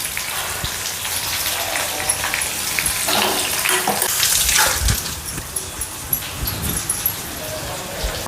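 Chopped onion tipped into hot oil with garlic, mustard seeds, cumin and green chilies, a loud, dense crackling sizzle with sharp pops and bursts through the middle, close by and fairly steady.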